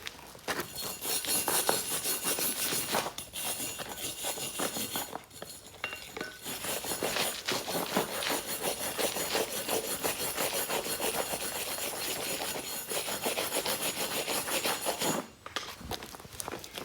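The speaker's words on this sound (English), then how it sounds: "So let me take the wire brush real quick. Clean that off." A Harbor Freight wire brush scrubs flux residue off fresh flux-core welds made with a Chicago Electric Flux 125 welder, giving a steady, close, loud rasping scrape in continuous strokes with brief pauses.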